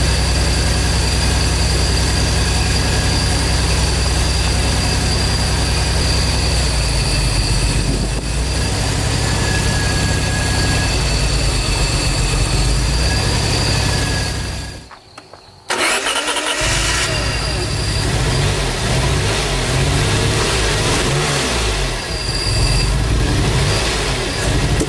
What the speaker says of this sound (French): vous entendez qu'un cylindre ne semble rien donner